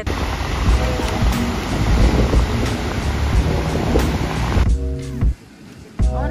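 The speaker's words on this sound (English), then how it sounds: "Crazy waves." Ocean surf crashing at a beach in Tela, Honduras: a broad, roaring wash of breaking waves with wind buffeting the microphone, loud and continuous before dropping away near the end.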